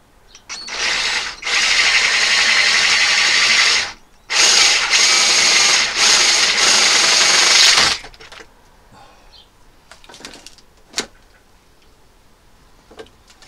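A power drill with a Bosch multi-construction bit bores in two loud, sustained bursts separated by a short pause, followed by near silence with a few faint clicks and taps.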